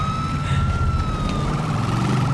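A steady, sustained siren tone from an ambulance in the video game GTA IV, holding near-constant pitch over a continuous low engine or traffic rumble, loud and close throughout.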